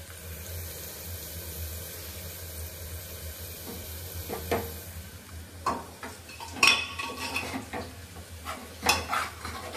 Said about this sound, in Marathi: आहो खूप सिरियस होऊन मसाला परतत आहेत